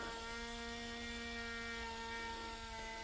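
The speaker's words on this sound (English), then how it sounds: "The motor's so loud." The motor of a Tekky jumping Halloween prop gives off a steady electric hum with a pitched drone that holds unbroken throughout, fairly quiet, with no voices.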